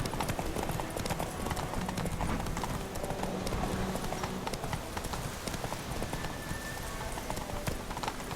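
Horse hooves clip-clop steadily at a brisk trot in The Witcher 3: Wild Hunt, a continuous, close rhythmic clatter with game ambience and music underneath.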